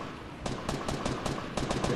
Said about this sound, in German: Ich höre schon wieder Schüsse.